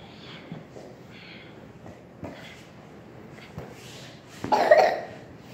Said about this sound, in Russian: Не кашляй, пожалуйста.